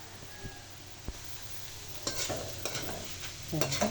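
Ampalaya (bitter gourd) and egg sizzle in a pan while a utensil stirs, giving a steady frying hiss broken by sharp scraping and clattering strokes that grow busier toward the end.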